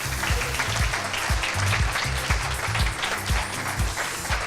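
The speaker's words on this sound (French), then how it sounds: "Merci d'applaudir et d'encourager Mathilde Champeau." Audience applause fills a regional science-communication competition final as a contestant is welcomed onstage, a dense, steady wash of clapping hands throughout with a faint voice underneath.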